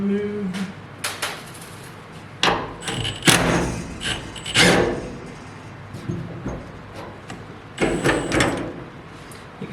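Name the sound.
removing bolts from 1955 Chevy truck hood strut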